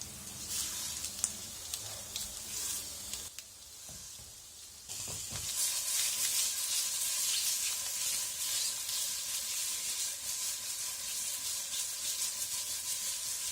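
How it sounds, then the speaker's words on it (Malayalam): Round-cut egg slices fry face down in a pan for a simple egg fry, giving a steady close sizzle that thins briefly and then returns louder and denser, hissing continuously with no talk. "നമുക്കിതിലേക്ക് കട്ട് ചെയ്ത് വെച്ചിരിക്കുന്ന മുട്ട ചേർക്കാം."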